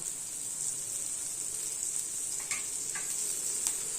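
Paneer bhurji base with red chilli powder, salt and turmeric sautéing in a pan, giving a steady, even sizzle with a few faint clicks of a spoon against the pan, close and continuous.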